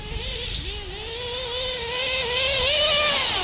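A nitro RC truggy engine screams at high revs during a flyby wheelie, a loud buzzing whine that wavers, then climbs in pitch and volume as the truck passes close by. No talking.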